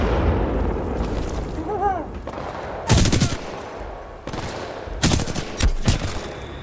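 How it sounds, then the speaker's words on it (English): Suppressive gunfire in a military shooter game played at master difficulty: sharp bursts and volleys of shots over a constant rumbling battle background, with loud, close clusters of fire around the middle and end. "I like that they programmed in suppressive fire"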